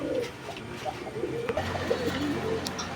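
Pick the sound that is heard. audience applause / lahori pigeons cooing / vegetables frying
lahori pigeons cooing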